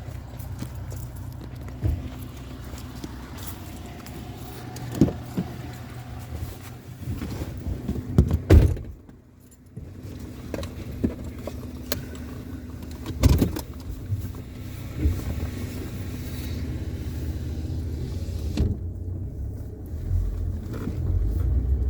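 A car cruises along a road on a chilly day, giving a steady low rumble of tyres and engine with occasional bumps and thumps, heard from inside the cabin without talk.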